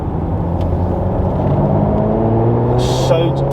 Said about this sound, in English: This is just the standard GTS 4-tip exhaust that's on it, and it sounds brilliant.